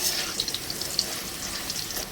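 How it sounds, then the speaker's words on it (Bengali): Potatoes frying in hot oil produce a faint, continuous hiss with small crackles, quiet and fairly even throughout, and no one speaks. "দেখুন, লাল লাল করে আলুগুলো আমি ভেজে নিচ্ছি।"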